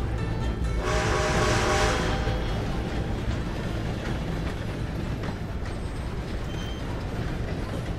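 A train rumbles past in a PC video game, a loud continuous roar of wheels and wagons with a brief brighter hiss early on, steady throughout, with no talking.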